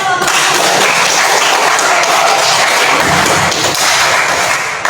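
Loud, dense applause from a large audience, steady throughout and tapering slightly at the very end.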